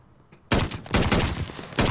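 Gunfire in Call of Duty: Vanguard, starting abruptly after a quiet moment, with loud close bursts of shots and another burst near the end.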